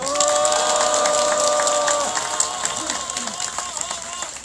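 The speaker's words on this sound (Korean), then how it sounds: "우리 김천 시민대책을 위해서도 큰 박수 주시기 바랍니다." A crowd at a rally against the THAAD deployment applauds the Gimcheon citizens' committee, with clapping and cheering filling the air and sustained tonal calls on top that fade partway through, while voices rise out of the crowd.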